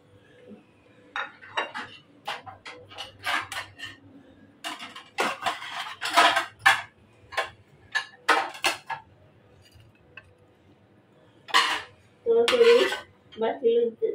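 Plates and dishes being searched through and handled, irregular clinks, clatters and scraping knocks of crockery at close range in separate bursts with quiet gaps between.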